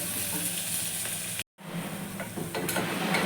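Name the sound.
ginger garlic paste and onion frying in a pan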